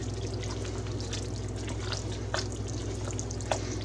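Cooked ground beef is stirred in a pot, a soft scraping and shuffling over a steady low hum, with a few sharper clicks of the utensil against the pot.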